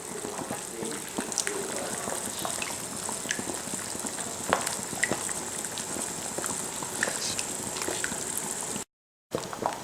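Beeswax melting with water over heat in a pot, a continuous bubbling simmer with scattered pops and small splashes, close and steady with a brief silent gap near the end.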